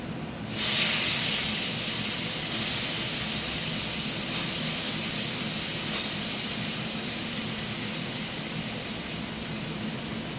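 Soaked soybeans fry in a hot pan with a loud, steady hiss and sizzle that starts abruptly and continues evenly throughout.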